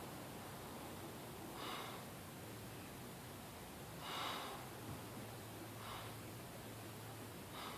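Someone sniffs an Oliva V cigar up close: three soft, breathy inhalations spaced a couple of seconds apart, faint against a quiet hiss.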